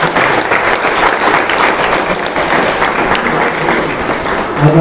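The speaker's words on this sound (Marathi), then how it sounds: "पुन्हा एकदा जोरदार टाळ्या झाल्या पाहिजे" An audience applauds loudly and steadily at the close of a lecture on preserving old buildings in Ahmednagar, a dense wash of clapping lasting several seconds.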